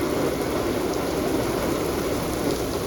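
Rain falls steadily at Fulton Harbor, a dense even hiss of drops on surfaces with faint higher spatter, constant and fairly loud with no voices.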